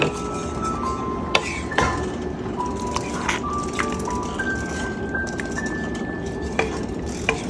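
Metal utensils clink and scrape against a big cooking pot while sauteed pork and shrimp are stirred in, with sharp clinks recurring over a low sizzling, bubbling background.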